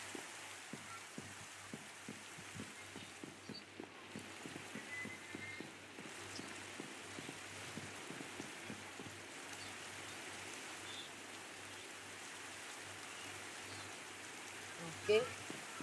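Rain falling in the video game Minecraft, a soft, steady hiss of drops with faint rhythmic patter early on, quiet and continuous throughout.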